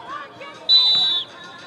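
A referee blows one sharp, loud whistle lasting about half a second during a basketball tournament game, over faint gym crowd noise and a quiet background voice.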